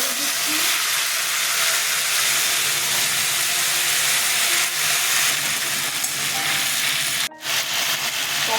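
Cumin seeds with tomato and ginger paste sizzle in hot oil in a pan for a vegetarian Bengali curry, a loud, steady, close hiss of frying that runs unbroken apart from one brief dip.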